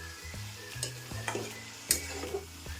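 Spices stir-fried with soybean chunks in a pan, a soft sizzle broken by the scraping and tapping of a spatula stirring at an irregular pace, close and fairly quiet with no talk.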